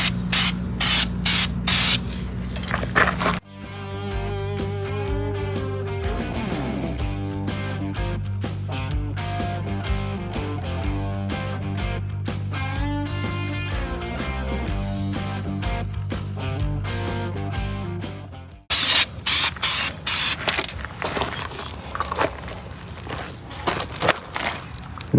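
Aerosol spray paint hisses onto rusty steel wheels in long continuous bursts, loud and close, with brief pauses and handling noises between passes.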